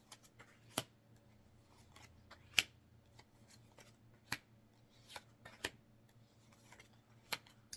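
Tarot cards are laid out one by one on a table, giving a series of crisp, close snaps and slaps spaced a second or so apart over a quiet room background, with no talking.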